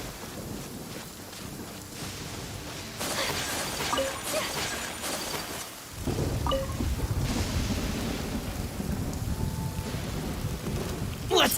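Steady rain pours in the video game Genshin Impact, with rolling thunder building and crashing partway through, a dense, loud storm with no voices.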